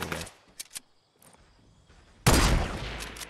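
A single sharp sniper rifle shot in Fortnite rings out loudly near the end, preceded by a few faint scattered clicks and quiet gaps.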